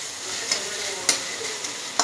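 Onion frying in oil sizzles with a loud, steady hiss up close, broken by a few quick scraping stirs of a spatula.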